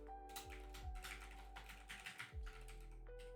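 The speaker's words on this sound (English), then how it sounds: "I'm just gonna type this out." Soft, steady key clicks of someone typing code on a computer keyboard, quiet and close, with a constant low hum beneath and no talk.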